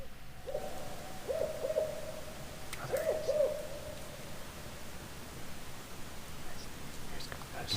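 An owl hoots outdoors at night in short clusters of soft, repeated calls, two distinct bursts over a hissy background with faint rustling and quiet voices.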